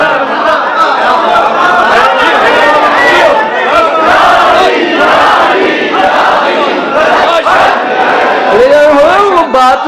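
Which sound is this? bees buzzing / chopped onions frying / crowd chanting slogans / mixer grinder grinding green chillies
crowd chanting slogans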